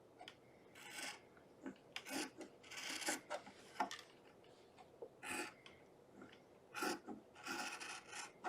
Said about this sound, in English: So all I'm doing is just cutting small little strips.